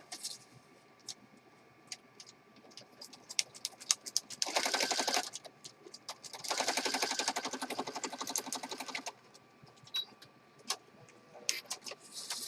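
Sewing machine stitching across a paper page of a handmade peacock-themed journal, two steady rattling bursts of rapid stitching, the second longer, with quiet handling clicks between.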